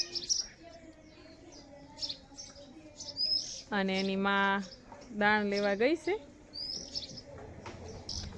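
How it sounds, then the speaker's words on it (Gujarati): House sparrow chicks in a nest at a cow shelter give high, thin chirps scattered through the clip. They sit under and between nearby speech, with two louder bursts of talk midway. "મસ્ત ચકલીના બચ્ચા હતા અને પણ બોલતા પણ શીખી ગયા છે"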